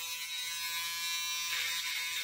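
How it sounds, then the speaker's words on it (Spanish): An electric shaver runs over hair during a fade haircut, a steady close buzzing drone that brightens slightly partway through, with no talk. "¿Qué pasa si yo tomo mi afeitadora hermosa y sexy"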